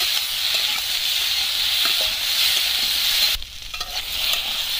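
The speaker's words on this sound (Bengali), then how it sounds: "হলুদ আর লবণ দিয়ে ভেজে নিচ্ছি কপিগুলো।" Kohlrabi fries in a pan with turmeric and salt, giving a steady close sizzle while it is stirred, with a brief dip in the hiss near the end.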